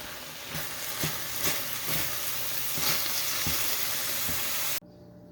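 Ground beef filling for crepes sizzles steadily in a hot pan, with a few soft stirring scrapes along the way, close and continuous before stopping abruptly near the end.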